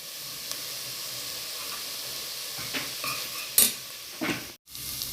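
Mint and coriander leaves sauté in a pan for a paneer curry, giving a steady soft sizzle with a few scrapes and clinks of stirring near the end.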